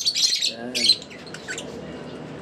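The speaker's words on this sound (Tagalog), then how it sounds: "Yan yung pinakamatanda natin ibon." Birds in an aviary chirping and squawking, a few sharp high calls and tweets close by in quick bursts, while someone speaks briefly over them.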